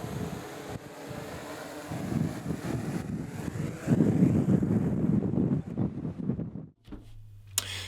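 Gusty wind buffets a microphone outdoors while a drone flies, a loud rumbling roar that swells and eases for several seconds before cutting off near the end, with no one talking.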